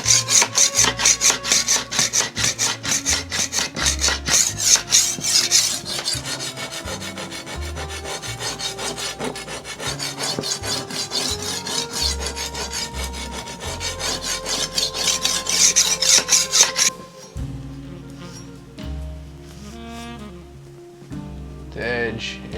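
A dull chef knife is worked back and forth on a diamond sharpening stone in quick, steady scraping strokes, loud and close. The strokes stop near the end, leaving quieter, sparser scrapes.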